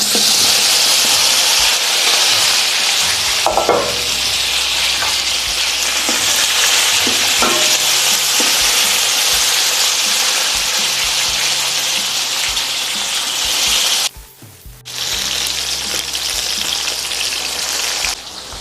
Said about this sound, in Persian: گوجه های برش خورده رو تو همون روغنی که از سرخ کردن کباب ها مونده بریزید